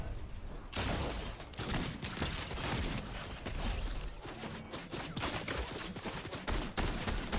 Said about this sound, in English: We just immediately started getting shot from everywhere.